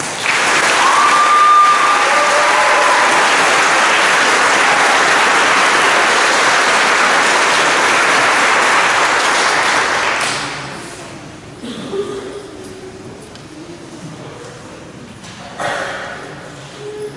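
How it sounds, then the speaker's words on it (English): Audience at a high school senior awards ceremony giving students a sustained round of loud applause for about ten seconds, then it fades into scattered claps and quiet room noise. "I just want us all to give them a round of applause"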